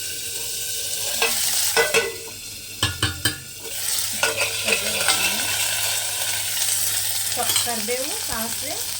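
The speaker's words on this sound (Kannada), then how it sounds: "ಸಾಸಿವೆ ಸಿಡಿಯುತ್ತೆ ಅದಕ್ಕೆ." Mustard seeds sputter and pop in hot oil for a tempering, a steady frying sizzle broken by sharp, irregular crackles and a few stirring clinks, with a brief burst of louder pops near the middle.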